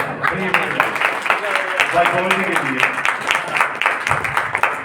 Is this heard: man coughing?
no